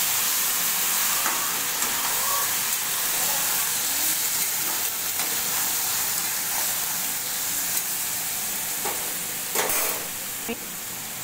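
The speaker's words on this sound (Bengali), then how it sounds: "মাংসটাকে ছেড়ে একটু নাড়াচাড়া করি।" Raw chicken meat dropped into a pan with sugar and frying, a broad steady sizzle with occasional scraping knocks as it is stirred, close and continuous, with faint talk at times.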